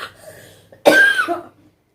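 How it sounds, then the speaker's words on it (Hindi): A single sharp cough rings out close by, with a rough throaty edge, followed by quiet. "अभी भी थोड़ी है खांसी सी।"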